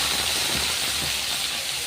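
Ginger, onion, garlic, coriander and green chilli frying in hot oil, giving a steady, close, broadband sizzling hiss that runs unbroken throughout with no talking.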